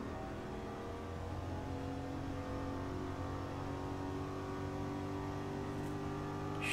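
A Mercedes engine drives steadily in the racing game Forza Horizon 5, with a sustained harmonic drone and a constant moderate level that does not rev up sharply, heard alone without talk.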